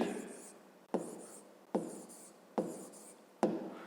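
Chalk or marker strokes on a board while a math equation is worked out, five sharp taps each followed by a scratchy trailing stroke in a regular rhythm, close and clear.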